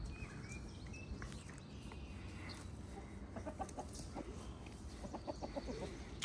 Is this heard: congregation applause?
no